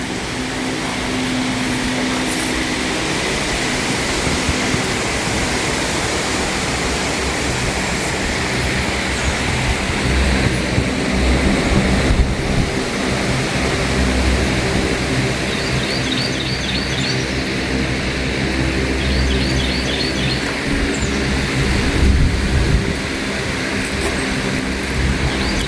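Water from a shower spray nozzle hisses steadily onto a DIY dry-pour concrete slab, a broadband rush that runs unbroken for about twenty-five seconds.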